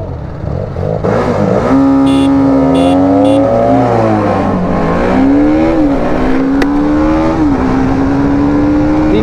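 300cc motorcycles in a Nepal drag race rev hard and loud, the engine pitch climbing and dipping through gear changes as they accelerate, a steady close roar filling the whole stretch.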